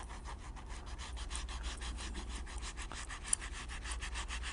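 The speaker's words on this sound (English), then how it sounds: "and sand up to that line" Rhythmic back-and-forth scrubbing of sandpaper rubbing a surface up to a marked line, about a dozen quick even strokes. Quiet and close, with one small sharp tick partway through, no voices.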